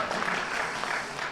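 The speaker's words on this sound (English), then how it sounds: "You can clap now." An audience claps through a convention voice-actor panel, a dense steady patter of many hands at moderate loudness with no voices over it.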